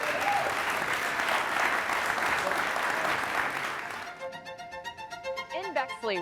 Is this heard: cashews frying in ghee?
no